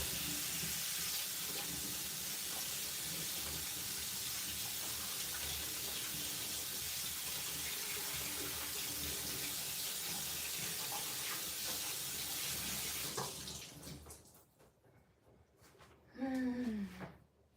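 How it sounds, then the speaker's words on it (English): Hands being washed under a running tap at a sink, a steady loud hiss of water for about thirteen seconds before the flow cuts off and brief squeaky noises follow. "I'm gonna wash my hands real quick"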